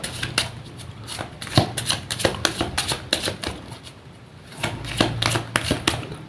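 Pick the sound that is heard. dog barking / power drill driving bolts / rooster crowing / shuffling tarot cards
shuffling tarot cards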